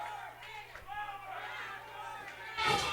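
Wrestling fans at a live SOM Mayhem event holler and chant together, a steady crowd roar rising louder near the end, with a constant low hum underneath.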